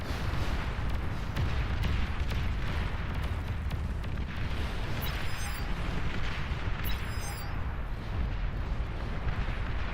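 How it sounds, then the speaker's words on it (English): Artillery volleys and explosions rumble in Beyond All Reason, a real-time strategy game, as a big mid-map clash unfolds: a dense, continuous wash of low booms and overlapping blasts, loud and sustained, with no distinct single shots. "Huge clash at the mid. Good volleys fire off."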